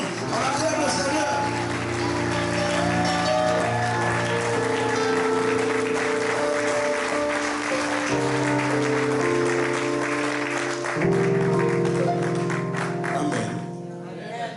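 A church congregation applauds together to acclaim the Lord, with sustained clapping filling a large hall over organ or keyboard chords and some voices throughout.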